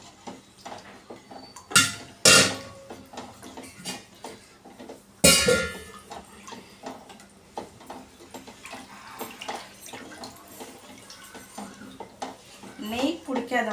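Rice halwa made with coconut milk, stirred in a pan over a low flame: sharp metallic spoon-on-pan scrapes and clinks, a few loud strikes, with wet stirring sounds between them.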